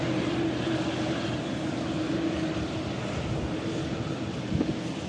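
TUI airliner arriving at Manchester Airport, a steady distant jet roar with wind noise buffeting the microphone throughout.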